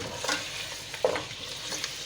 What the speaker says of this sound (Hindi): सो हिन खे गोश्त खे भुञंदासीं।